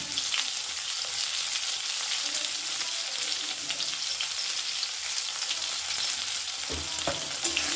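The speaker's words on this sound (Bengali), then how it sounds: "লবণটা দিয়েও আর কয়েক সেকেন্ড একটু নাড়াচাড়া করে নেব গ্যাসের ফ্লেমটাকে মিডিয়ামে রেখে" Shukto vegetables fry with salt in a pan over a medium gas flame, giving a steady close sizzle with soft stirring scrapes throughout and no talking.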